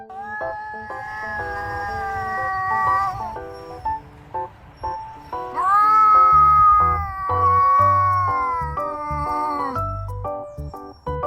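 A stray cat yowls loudly in mating season with long, wavering, siren-like wails that rise and fall, repeated in drawn-out cries close to the microphone.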